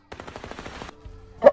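Gun firing real bullets in the Little Misfortune video game: a quick rattling burst of about eight rapid shots, then a low hum and a single sharp bang at the end, fairly close and with no talk.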